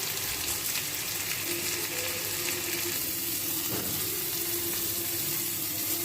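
Ivy gourd frying with onion paste in a hot pan, giving a steady, even sizzle that continues throughout, with a faint scrape or stir partway through.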